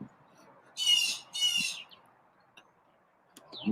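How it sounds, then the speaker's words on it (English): Two loud harsh bird squawks close together, followed by a few faint chirps and clicks against a quiet background. "the birds are coming"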